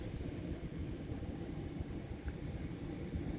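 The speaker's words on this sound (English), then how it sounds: "we've got the Elizabeth line train going" An Elizabeth line train runs past at Shenfield station, a steady low rumble and rush with wind-like noise, at moderate level throughout with no clear start or stop.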